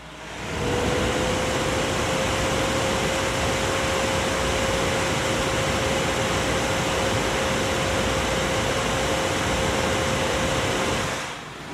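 An Akasa H4A CPU cooler fan runs at full 100% speed, around 3500 RPM, producing a steady loud broadband whoosh with a constant faint tonal whine, starting and stopping cleanly with no talk.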